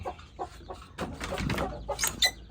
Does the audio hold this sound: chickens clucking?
yes